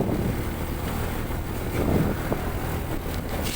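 A motorcycle rides slowly through heavy traffic, its engine a low steady rumble under strong wind buffeting the microphone, with no clear talk.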